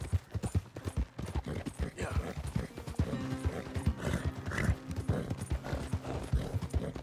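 Horses in a stable in the video game Red Dead Redemption 2, with steady hoof clip-clops, shuffling and snorts, and a neigh or whinny partway through, fairly close and continuous.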